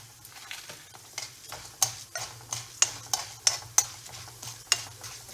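Ingredients for coconut thogayal being dry-roasted and stirred in a pan, with about a dozen close, evenly spaced scraping strokes over a soft sizzle and a low steady hum, and no talking.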